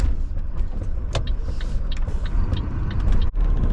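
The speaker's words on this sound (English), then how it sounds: "There's a car coming." A single car approaches and passes along a rural road on a cold day near cattle, a steady rising and fading engine and tyre rumble up close, with no talking.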